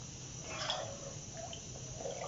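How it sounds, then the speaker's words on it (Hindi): Water poured into a cooking pot for chicken biryani, making a soft continuous splashing hiss with a few brief drips, fairly quiet and alone. "तो अब हम इसमें पानी डालें।"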